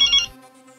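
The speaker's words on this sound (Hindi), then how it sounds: "नाम लिया और बॉस का फोन आ गया" A mobile phone ringtone sounds briefly indoors, a bright electronic chime that cuts off quickly and leaves a fading tonal tail.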